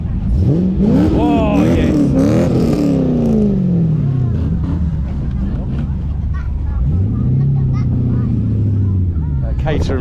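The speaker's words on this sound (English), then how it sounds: "Thought I heard a burbly V8 behind me." Burbly V8 engines of classic cars, a Triumph Stag and a Holden Monaro, rev loudly and close by at a classic car rally in the Chiltern Hills, with rising and falling engine notes and brief exclamations from a voice.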